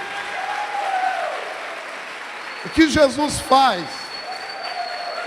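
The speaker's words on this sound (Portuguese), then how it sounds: "Vamos dar salva de palmas para Jesus." Applause from a church congregation fills the space as a soft, steady wash, pausing briefly while a preacher speaks a short line before the clapping carries on.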